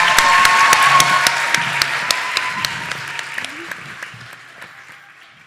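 Applause from an audience at a school board and city council debate, dense clapping that starts strong and gradually fades out over several seconds.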